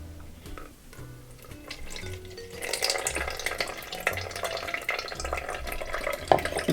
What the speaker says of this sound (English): And we're going to put that through a fine strainer.